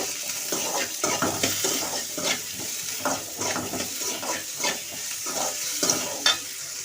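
Onions sauté in a pan for a cluster beans gravy, with a continuous sizzle under rhythmic scraping strokes of stirring, close and fairly loud, and no talking.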